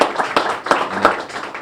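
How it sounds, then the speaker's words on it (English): A crowd at a celebration claps in a short burst of applause, a dense patter of many hands in a room. "give yourselves a round of applause"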